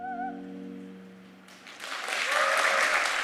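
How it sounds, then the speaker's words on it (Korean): A sustained clarinet note fades at the close of a concert and, after a short pause, the audience breaks into loud, dense applause. "뜨거운 박수갈채가 이어졌는데"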